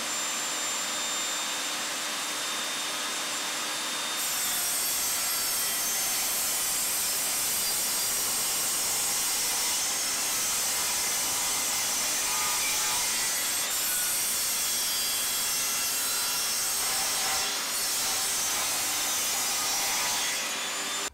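Evolution Rage 5S saw fitted with an Evolution wood blade cutting through wood, a loud sustained hissing rasp close by that runs nearly unbroken with small dips in intensity, no voices.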